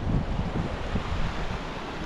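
A stream flows beneath a wooden bridge on a trail in Patagonia, a steady broadband rush of water with some wind buffeting the microphone, continuous and fairly loud.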